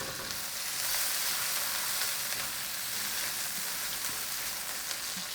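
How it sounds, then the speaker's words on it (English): Onions sizzle in a hot wok for spaghetti squash yaki soba, giving a steady, dense, close frying hiss with no breaks and no voices. "It's time to rock the wok. Onions first so they can get softened a little, get nice and caramelization."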